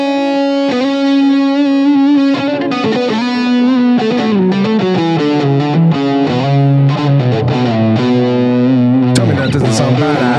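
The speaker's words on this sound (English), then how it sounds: "I'm doing another rake into the slide with some vibrato." A heavily distorted electric guitar rakes across muted strings, then slides into a sustained note shaken with vibrato, followed by further picked phrases, loud and continuous.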